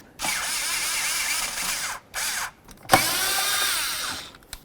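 A power driver loosens the hose clamps on a Ford Crown Victoria's intake in several short whirring bursts separated by pauses, close and fairly loud.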